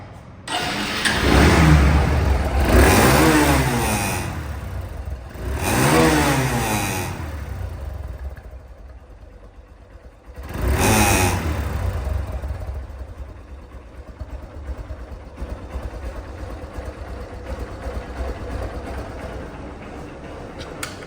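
A second-hand Hank motorcycle with ABS and double disc brakes revs its engine in several loud bursts, each falling back to a steady idle, then runs on at a rough, even idle near the microphone.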